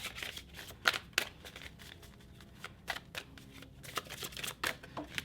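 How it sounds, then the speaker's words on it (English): Tarot cards being shuffled and drawn from a deck, with a steady run of soft riffling and sliding card noises and a few sharper snaps as individual cards are pulled, close and fairly quiet. "Let me pull like 2 more cards."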